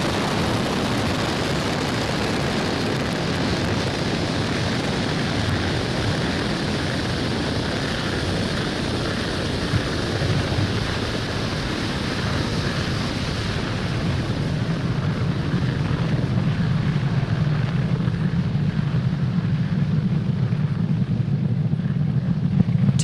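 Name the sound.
Falcon 9 rocket engines roaring during launch ascent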